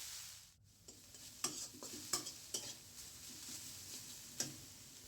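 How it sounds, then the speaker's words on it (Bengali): Khesari (grass pea) greens being stirred in a pan: a quiet run of scraping strokes and sharp spatula taps at irregular intervals, close by, with no talking. "তারপর ভালো করে নেড়ে চেড়ে দিব।"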